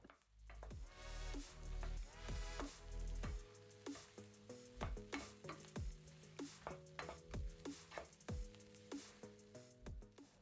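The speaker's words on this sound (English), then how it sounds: "Now I'm adding the roasted cashews and raisins. Give a mix." Roasted cashews and raisins are stirred into a potato kachori filling in a pan, with repeated scraping strokes and clinks over a steady sizzle, close and fairly loud with no talking.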